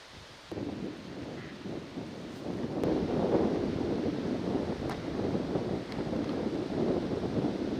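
Wind gusting across an outdoor disc golf course during a tournament final, a steady broadband rush that swells louder partway through and keeps buffeting the microphone with no voices.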